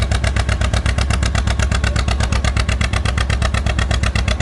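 Antique John Deere 60 tractor pounding away under load at a tractor pull, a loud, steady, rapid two-cylinder exhaust beat that stays close and constant throughout with no talk over it.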